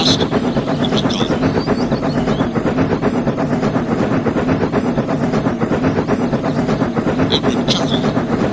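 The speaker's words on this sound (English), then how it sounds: "His train rocketed past." A steam engine train rushes along the rails, a steady loud rumble with rhythmic clatter filling the whole stretch, with faint higher squeals near the start and end.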